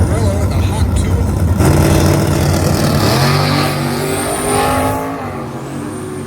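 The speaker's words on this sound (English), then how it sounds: "Our first pair at the line, Kenny Aurelio, Tom Van Tol" Drag racing cars, including a 1967 Camaro, roar loudly off the line at a truck showdown, engines revving and climbing in pitch before fading down the strip, with an announcer talking over them.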